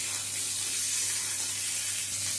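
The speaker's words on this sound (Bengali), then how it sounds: "ঝিঙেটা এমনি ভেজে নেব, ঝিঙের মধ্যে লবণ দেবো না" Sliced ridge gourd frying in hot oil without salt, giving a steady, even sizzle that holds at a constant level with no talk.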